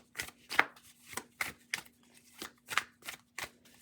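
Tarot cards get shuffled in a steady run of about nine quick, crisp riffling snaps, close and fairly quiet, with no voices.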